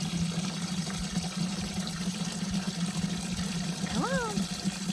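Tap water runs steadily for a pet bird to drink, a continuous close rushing stream, with a few quick bird chirps near the end.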